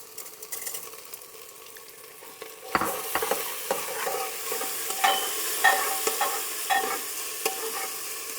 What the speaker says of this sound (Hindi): अब प्याज भुनेगा, प्याज भुनने के साथ साथ उड़द की दाल भी भुन जाएगी